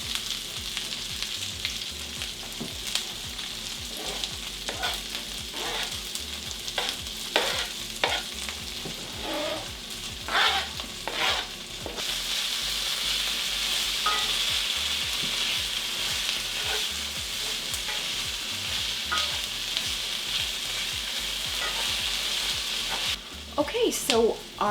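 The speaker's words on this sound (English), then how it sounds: "our other ingredients have been sauteing for about 5 to 6 minutes" Bacon, chicken and chopped vegetables with fresh thyme sauté in a skillet for a keto harvest dish, giving a steady close sizzle broken by repeated scraping stirs of a utensil against the pan.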